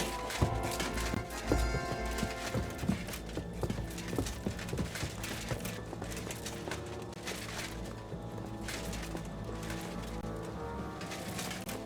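Rhythmic clip-clop of horse hooves from the video game Kingdom Come: Deliverance II on PS5 Pro, over a busy, layered game soundtrack with music, steady and fairly loud throughout.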